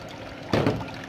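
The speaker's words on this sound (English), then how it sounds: "So that's why I'm washing it before blend it." Beniseed is rinsed in water before blending, with a short, close splash of poured water halfway through over a faint background hum.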